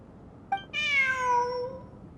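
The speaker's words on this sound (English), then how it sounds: "Look, a cat." A single clear, close cat meow from Genshin Impact rises and falls over a faint, quiet background, with a tiny chirp just before it.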